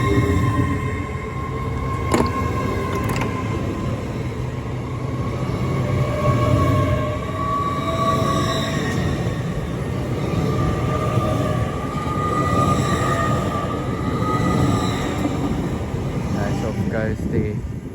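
A Great Western Railway train bound for Cardiff Central running through Didcot Parkway on the Great Western Main Line, a steady loud rumble with whining traction tones and wheel noise that holds throughout.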